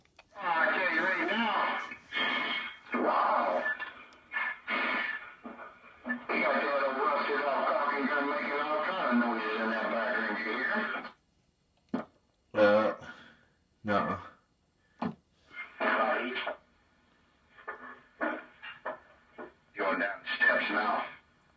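A white-face custom Dak CB radio carries voice transmissions with the echo switched off, someone talking over the radio in long and short bursts with gaps of silence between keyed transmissions.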